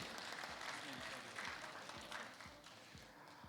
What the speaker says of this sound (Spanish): Solicitamos el aplauso correspondiente por parte de los que estamos presentes aquí en el auditorio.